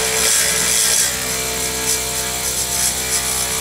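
A skew chisel gently cuts an ebony pen blank on a wood lathe, giving a steady soft hissing rub of shaving ribbons, fairly close and continuous, slightly louder in the first second and with no voices.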